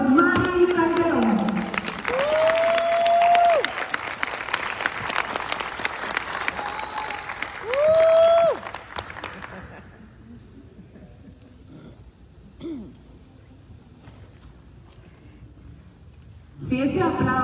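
A church conference crowd claps loudly and steadily for several seconds, with a few sustained whistles, then the clapping fades as a voice speaks over the room.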